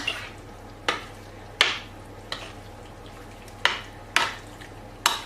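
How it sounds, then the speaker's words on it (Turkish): A spoon stirs béchamel sauce through a dish in a pan, giving sharp periodic scrapes and clinks roughly every second against a faint steady background hum, close and alone with no talking. "Yine karıştırıyorum ki beşamel sosun her yerine bulaşsın."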